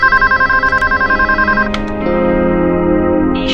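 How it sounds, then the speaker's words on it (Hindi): An electronic telephone ringtone trills in rapid repeated pulses, then gives way to a steady tonal hum and a brief higher beep at the end. "मैं टीना को ही फोन लगाती हूँ।"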